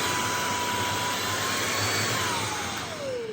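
A Kalado cordless stick vacuum's small motor whirs steadily at close range, its high whine dipping slightly in pitch toward the end.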